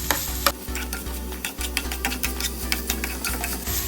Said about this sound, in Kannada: ಸ್ವಲ್ಪ ಪನ್ನೀರ್ನ ರೋಸ್ಟ್ ಮಾಡ್ಕೊಳ್ಳೋಣ